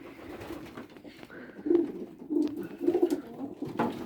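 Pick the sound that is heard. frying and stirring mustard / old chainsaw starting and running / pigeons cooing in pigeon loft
pigeons cooing in pigeon loft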